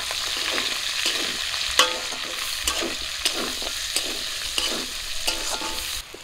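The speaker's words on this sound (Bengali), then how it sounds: "পেঁয়াজ আর কাঁচা লঙ্কা ভেজে নিয়েছি লাল লাল করে।" Chopped onion, bay leaf and green chili fry in oil left over from frying chicken for a chicken curry, a steady close sizzle with periodic scraping stir strokes roughly every second and no talk.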